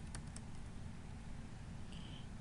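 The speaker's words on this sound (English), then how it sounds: "I'm typing in as much information as I possibly can" Soft, continuous typing on a computer keyboard while filling in bibliography fields in Word, faint and close with a few sharper key clicks.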